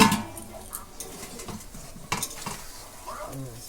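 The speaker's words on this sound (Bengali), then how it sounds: "এই যে ঝোলটা ফুটে উঠছে" Fish curry gravy boils in a covered pot on the stove, with a steady low bubbling and sizzling broken by a few sharp metallic clinks of utensils against the pot.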